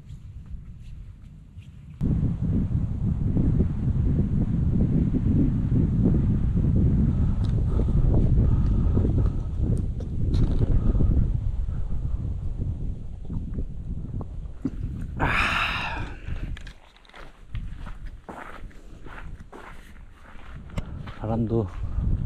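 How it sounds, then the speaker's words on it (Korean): Wind gusts over an exposed mountain trail, a loud, steady roar buffeting the microphone that eases and swells again, with brief footsteps and rustling near the end. "아, 바람 소리."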